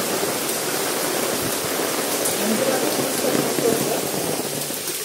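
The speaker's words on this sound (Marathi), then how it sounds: "पाऊस पडत राहील." Steady heavy rain pours down nearby on a trek at Raigad Fort, a dense continuous patter with faint voices mixed in.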